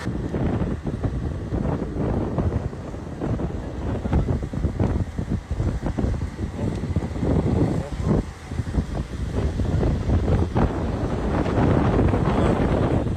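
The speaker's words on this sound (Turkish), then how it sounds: "Rüzgar bu denli hızlı esince" Strong wind at a wildfire spreading from farmland into forest buffets the microphone in a loud, continuous rumble with gusty surges throughout, no clear voices above it.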